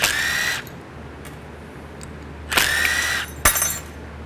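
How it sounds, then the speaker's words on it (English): A power drill spins out T25 Torx screws from the valve body of a 2019+ Ram 68RFE transmission, in three close, loud bursts of whirring separated by quiet pauses. "We're going to remove these 4 Torx right here, these T25s. Going to take these out."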